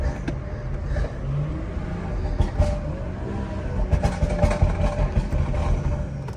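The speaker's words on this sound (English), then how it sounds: "You can still hear the turbos really well." A BMW G30 540i turbocharged engine accelerates from inside the car, a rumbling rising drone with road noise and faint turbo whine building in intensity, no talk over it.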